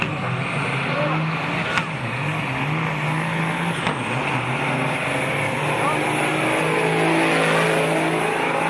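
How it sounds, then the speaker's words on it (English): Heavy log trucks, each loaded with 71.5 tons, rev their engines hard, giving a loud, sustained motor roar that holds steady and builds slightly toward the end, with no talk over it. "These trucks make some crazy horsepower that bends the frame."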